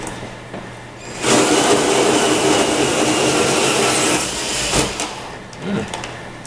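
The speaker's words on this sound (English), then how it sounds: "I'm going to drill over a waste paper basket." Electric drill boring a hole into material held over a waste paper basket while building a DIY fog machine chiller, a loud steady whine running for about three seconds before tapering off with a few handling knocks.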